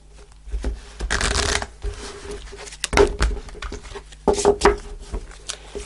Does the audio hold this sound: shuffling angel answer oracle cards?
yes